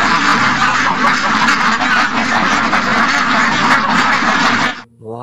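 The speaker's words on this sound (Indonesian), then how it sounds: "Ini bebek." A duck quacks and honks loudly and repeatedly at close range in a continuous noisy burst, cutting off abruptly near the end.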